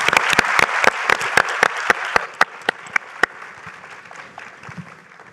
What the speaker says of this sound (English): let's give everybody a real round of applause.